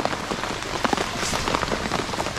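Steady outdoor rain by a Konkan creek, dense drops pattering on surfaces at close range with no other sounds over it.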